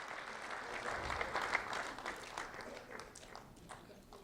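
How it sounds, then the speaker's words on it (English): Audience applause at a Lee County Sheriff's Office recognition ceremony: many hands clapping in a continuous, moderately loud burst that gradually tapers off. "a round of applause, please"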